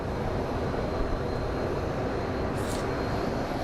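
An American Airlines jet takes off at Phoenix Sky Harbor, its engines a steady, broad roar that holds loud and constant throughout, with no voices over it.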